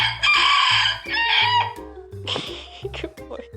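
A rooster crows loudly and close by, a long strained call followed by a few shorter clucking notes.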